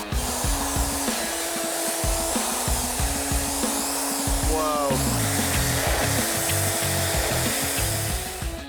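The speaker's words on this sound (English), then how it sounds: "it's a pressure washer that boasts some pretty decent stats" A Gorilla Power GP8 pressure washer sprays while deep cleaning a neglected Suzuki Jimny, giving a continuous loud, rushing hiss over a pulsing motor hum that wavers now and then.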